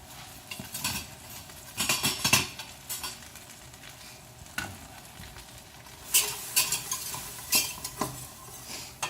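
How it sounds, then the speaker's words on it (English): Onions cooking in butter in a pan are worked over with a whisk, giving irregular bursts of scraping and clinking against the metal over a soft, constant sizzle, close by and with no talk. "Give us a whisk."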